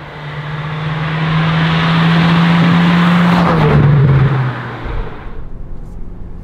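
A Hyundai i20N hot hatch driving hard on a B road, its engine droning loud and close as revs rise and hold, then dropping away with a lift-off near the end.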